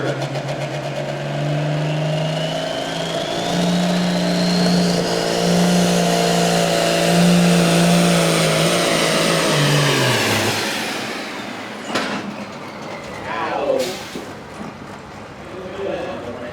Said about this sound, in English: one of the most beautifully unique blue fender tractors you'll see out there